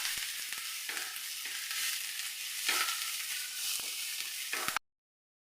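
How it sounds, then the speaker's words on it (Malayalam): Two medium onions sautéing in a pan with ginger and curry leaves make a loud, continuous sizzle with scraping stirs, close by, before cutting off abruptly into silence. "ഇനി ഇതിലേക്ക് നമ്മൾ ഒരു മീഡിയം സൈസ് 2 സവോള അതുപോലെ ഒന്ന് വഴറ്റിയെടുക്കാം കേട്ടോ."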